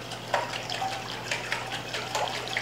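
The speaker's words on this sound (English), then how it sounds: "Then you want to make sure you tightly secure the lid, and then you can shake it." Olive oil and vinegar dressing sloshes inside a tightly lidded jar as it is shaken in a few quick rhythmic bursts, a soft, faint liquid splashing over low background hum.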